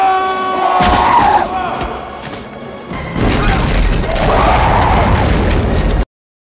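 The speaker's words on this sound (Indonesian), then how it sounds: "Kini giliran Ardet yang berkorban menahan para mumi agar Rick bisa meledakkan jalur masuk." An explosion blowing open an entrance in a film scene, loud booming bursts amid crowd shouting and battle cries, with a second heavy blast midway before sudden silence at the end.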